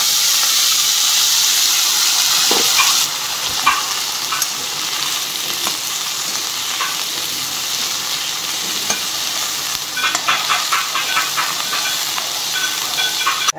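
Yogurt-coated onions frying in hot oil in a wok give a loud, steady sizzling hiss that runs throughout, with occasional soft clicks of stirring; no one speaks.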